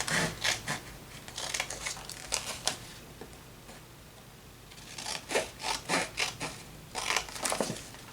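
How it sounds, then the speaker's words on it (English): Scissors snip and rasp through paper in quick bursts of short crisp cuts, pausing briefly midway before another rapid run of snipping. "I'm just going to use my scissors"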